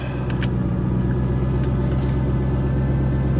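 A car that had sat unused for about a month, low on petrol, idles steadily after starting up, with a constant, close, low engine rumble and no voices.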